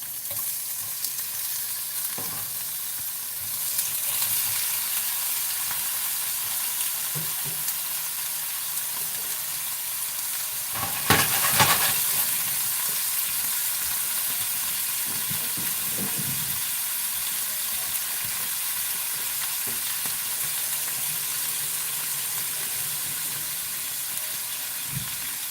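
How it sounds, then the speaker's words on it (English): Shrimp sizzling in a hot pan for garlic butter shrimp, a steady close frying hiss throughout with a brief louder burst of crackle around the middle as more hits the oil. "So I think my pan's hot enough. Let me throw one in there and let's see."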